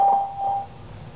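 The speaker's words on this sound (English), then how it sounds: "After the beep, please record a message." Skype's call testing service sounds a steady electronic beep tone, a clear single pitch heard twice in quick succession before fading into a quiet background.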